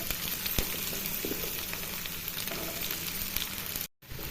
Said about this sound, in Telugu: మళ్ళీ అదే ఆయిల్లో మిగతా వాటిని వేసి ఫ్రై చేసుకుందాం